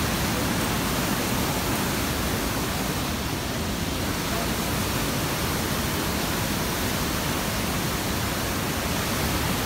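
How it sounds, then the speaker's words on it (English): Steady, loud broadband rushing water roars without pause at Devil's Pool at night, like a powerful waterfall close by, filling the whole stretch with dense noise. "if you see how fast the waterfall is going"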